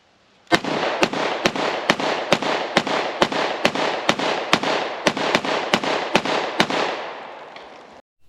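An FB Radom VIS-100 9mm pistol fired with an extended magazine, about seventeen sharp, loud shots in an even rapid rhythm, each with a ringing tail, then silence.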